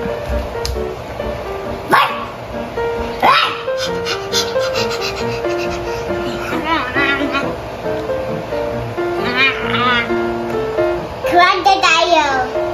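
A voice imitates a dog barking in short, repeated barks, loud and close, with music playing underneath throughout.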